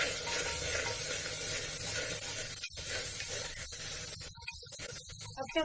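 Chopped ginger and tomatoes roast in a dry pan with no oil for a zero-oil peas and paneer gravy, giving a steady, close hiss and sizzle broken by a few brief gaps and clinks near the end.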